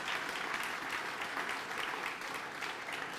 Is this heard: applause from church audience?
yes